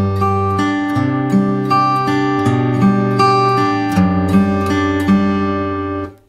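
Acoustic guitar fingerpicking a repeating arpeggio pattern for a song, clean and close, with sustained ringing notes that shift through a few chord shapes before the final strum fades.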